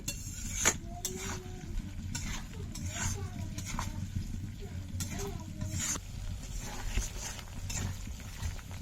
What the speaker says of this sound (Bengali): তো মশলা এদিকে কষা হচ্ছে